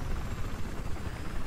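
A steady, dense rotor and engine roar from a helicopter flying in Battlefield 4, continuous and fairly loud throughout with no pauses.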